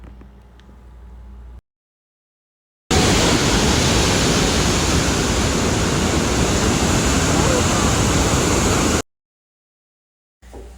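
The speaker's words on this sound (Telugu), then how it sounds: "వాటర్ ఫాల్స్ దగ్గరికి" Niagara Falls roaring up close at the Cave of the Winds, a loud, unbroken wall of rushing, crashing water for about six seconds, framed by brief dropouts and quieter ambience at either end.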